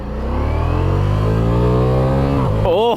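A 2023 Ducati Diavel V4 motorcycle with a stock exhaust revs hard and close, its engine note climbing steadily in a loud, rising howl before dropping off sharply at the end.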